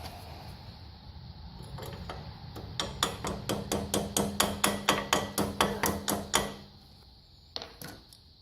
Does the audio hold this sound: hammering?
yes